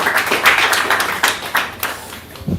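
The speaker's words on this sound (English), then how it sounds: "let's give a round of applause for Alex" Audience applause for a speaker being introduced at a tech showcase, a dense patter of clapping hands that swells and fades over a few seconds, fairly close.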